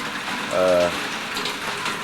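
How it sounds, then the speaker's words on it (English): Rain falling during Hurricane Katrina in 2005, a steady broadband hiss of drops close by, with a brief tonal voice-like sound cutting in near the start. "The rain, it started raining."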